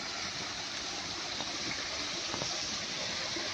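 A natural waterfall at Sentosa Nature Discovery in Singapore pours in a steady, dense rush of water, constant and enveloping with no pauses.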